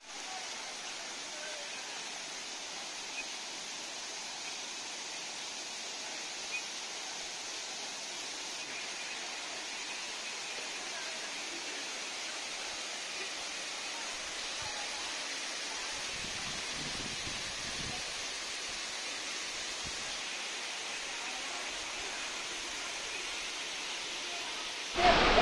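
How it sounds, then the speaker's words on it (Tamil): Water falling from a lake near Yercaud makes a faint, steady rushing wash heard from a distance, with a few soft thumps near the end. "இங்கே கொட்டுற தண்ணிலாம் ஏதோ ஒரு குளம் மாதிரி தேங்கிட்டு மறுபடியும் எங்கேயாச்சும் வெளியே போய் கொட்டும்."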